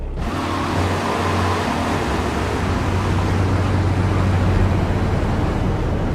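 Grand Theft Auto III car idling in-game: a steady low engine hum under a constant broadband rumble, unbroken and fairly loud for the whole stretch, with no voices.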